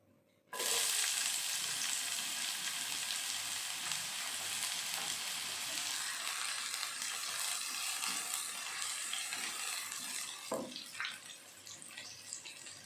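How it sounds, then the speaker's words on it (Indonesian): Loud, steady sizzling bursts in as onion hits a hot wok and keeps sautéing continuously, with a brief stirring clatter near the end. "Kemudian kita tumis bawang bombay."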